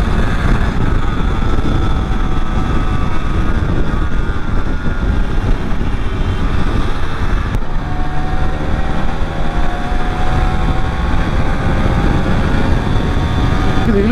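A restored Yamaha RX135 five-speed two-stroke motorcycle running, a loud continuous engine drone with wind rush, pitch shifting as it pulls, heard close and without talk.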